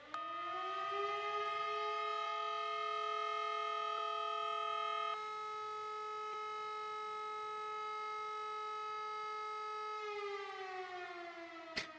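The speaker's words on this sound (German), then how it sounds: "die Sounds der Sirene haben sich halt geändert" A fire engine siren in Emergency 4 wails continuously, a steady electronic tone with rich harmonics holding one pitch with a slight shift partway through, loud and sustained throughout.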